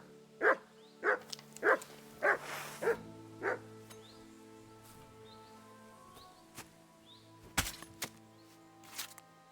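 Mutt, a dog in Kingdom Come 2, barks six times in a steady run, fairly close and clear, then goes quiet apart from a few scattered thumps and knocks.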